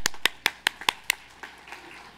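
Congregation applauding during a Taiwanese-language Sunday church service: about six sharp, separate claps in quick succession, then a few softer scattered ones fading out, fairly close, with no talk.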